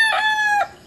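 A gamefowl rooster crows once, close and loud, in a short bright call that cuts off abruptly, with no talk over it.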